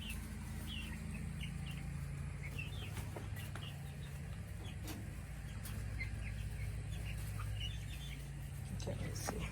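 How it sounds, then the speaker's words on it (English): Chicks peep in a chicken coop converted from a storage shed, many faint high chirps scattered over a steady low hum, fairly distant and soft, with a voice murmuring now and then. "15 chicks."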